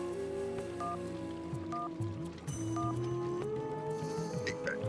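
In a Bangla cartoon, a phone is dialed with a few short electronic key tones in sequence, heard over a continuous music-like background bed.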